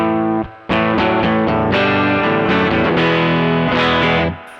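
An electric guitar rings out chords and notes through an OPFXS V UNO pedal into the clean channel of a Koch Studio Tone 20 amplifier, full and sustained with a bright edge, played alone without any talking.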